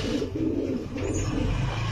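Low, steady cooing from a female pigeon among fancy breed pigeons, a continuous soft murmur filling the two seconds with no talk over it.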